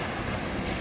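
Big sea waves wash and roar around a small fishing boat snagged on a reef, a dense, steady rush of surf and wind noise close to the microphone with no talking.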